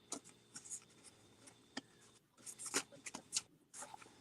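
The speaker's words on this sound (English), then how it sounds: "These cards are hard to shuffle." Stiff tarot cards being shuffled by hand, a series of irregular crisp riffling and slapping bursts with quiet gaps between them, close and fairly faint.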